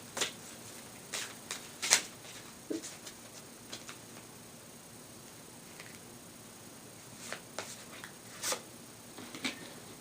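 Ascended Masters oracle cards shuffled and drawn by hand, giving soft, close papery flicks and taps scattered irregularly over a quiet room hiss, with no talking.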